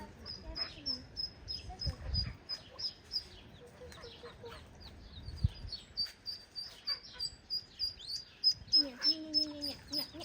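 High, repeated peeping of ducklings runs throughout, mixed with rhythmic lower calls from adult ducks, all fairly quiet and close.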